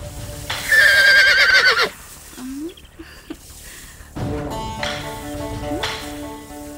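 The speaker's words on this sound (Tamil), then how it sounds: "என்னடி உன் குதிரை காத்தாலே களத்துக்கு வந்து கணிக்குது" A horse gives a loud, close whinny lasting over a second, followed by further softer neighing and snorting sounds, with no speech.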